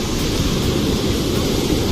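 Ocean surf breaking on the beach at Puri, a steady broadband roar of rough, heavy waves that stays loud and constant throughout with no voices.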